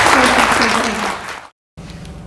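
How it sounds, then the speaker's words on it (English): Applause from an audience at a small-town political forum in Alberton, Montana, dense and steady clapping that fades and cuts to near silence, then soft room noise resumes, with a voice mixed in early on. "Please give these ladies and gentlemen a round of applause"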